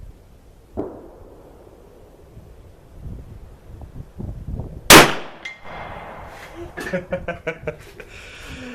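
A 10mm Smith & Wesson 610 revolver bullet strikes a steel plate at 100 yards, giving one sharp distant clang midway. Wind noise and a few faint knocks sit around it, with people talking quietly nearby.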